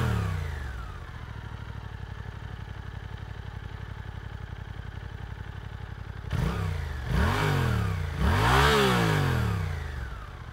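A Suzuki GSX-8S motorcycle idles steadily through its stainless 2-into-1 underslung exhaust for several seconds, then three rising throttle blips follow, each revving higher and falling back. Close by, moderately loud, with no speech.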